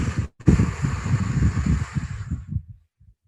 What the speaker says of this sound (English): do a slow, long breath out through the mouth